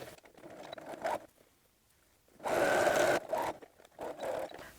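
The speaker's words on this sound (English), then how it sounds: "I'm just going to use a straight stitch for that." Short bursts from a sewing machine running a straight stitch along a shoulder seam on black fabric, with two or three quick runs separated by near-silent pauses, the longest run loud and close.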